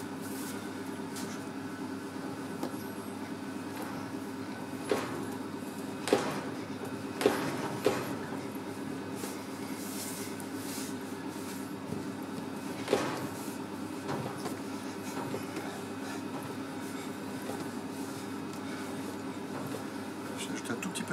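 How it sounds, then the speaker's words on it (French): A stand mixer fitted with a dough hook kneads dough in a steady, humming motor drone that runs throughout, with a few sharp knocks and clicks rising above the even whirr. "On peut également la travailler bien sûr au batteur, avec le crochet."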